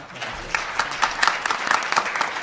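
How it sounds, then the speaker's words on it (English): Audience applause at the close of a panel discussion on the African city: a thin, sparse patter of claps from a small crowd, moderately close, rising slightly and continuing steadily without voices. "let's applaud all that"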